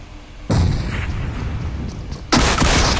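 A grenade blast and heavy gunfire in a video game, two sharp loud explosive bursts about two seconds apart with rumbling booms and crackle trailing between them.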